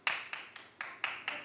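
Scattered claps from an audience, six sparse separate hits at an uneven slow pace, faint and somewhat distant in a quiet room.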